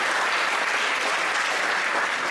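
A dense, steady burst of applause from a large audience at a book talk in San Jose Japantown, many hands clapping continuously at full volume with no pauses.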